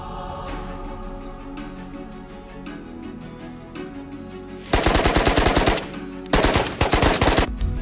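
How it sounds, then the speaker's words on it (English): Short bursts of automatic gunfire in the VR shooter Ghosts of Tabor, two loud rapid-fire volleys of sharp repeated shots after a quieter stretch of ambient game sound. "These gunfights that transpired over the upcoming raids were short-lived"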